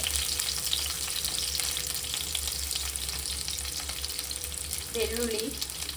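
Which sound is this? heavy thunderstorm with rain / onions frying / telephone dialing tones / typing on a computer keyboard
onions frying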